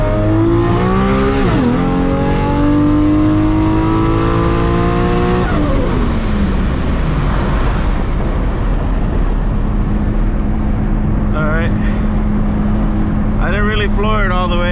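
A 1000+ horsepower MK4 Toyota Supra roars through a full-throttle pull, the loud engine note climbing through gear changes with brief dips between shifts, then settling into a steady drone, with some cabin chatter.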